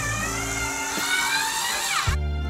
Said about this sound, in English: So I use the Bosch IXO Vino, turning a cordless screwdriver into an electric corkscrew.